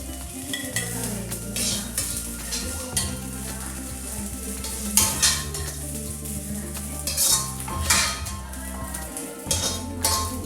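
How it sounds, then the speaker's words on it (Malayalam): Okra being stirred in a frying pan for a dry Kerala-style stir fry, with a spatula scraping and clinking against the metal over a steady sizzle, in close, continuous strokes. "ഇടയ്ക്കിടയ്ക്ക് ഇളക്കി കൊടുക്കണം."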